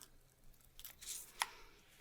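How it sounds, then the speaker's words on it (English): Scissors snip the end of crepe paper while making a paper lavender flower, a few quiet, close, crisp cuts in an otherwise hushed room. "you can just take your scissors and trim off the end"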